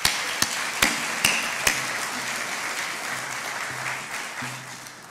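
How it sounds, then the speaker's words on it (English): An audience applauds at the fall kickoff of a lecture program: a steady wash of many hands clapping, opening with a few sharp, loud claps, then holding evenly before slowly thinning out. "Let's give them a round of applause."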